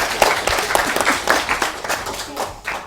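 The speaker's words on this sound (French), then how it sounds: "applaudissez alors pour le papa" Children's show audience clapping for a father, with dense, lively applause close by that pulses slightly, and no talking over it.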